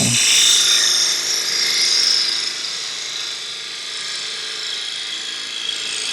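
A gouge cuts wood on a lathe during the turning of a lidded box, producing a continuous bright, hissing whine that is strongest at the start and then settles to a steadier, slightly softer tone.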